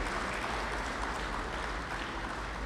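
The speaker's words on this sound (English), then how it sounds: "I want to give the Secondary Schools League a round of applause" Sustained applause from a seated audience at a 2015 secondary schools football league prize-awarding ceremony, a dense, steady wash of many hands clapping that stays even from start to finish with no voices on top.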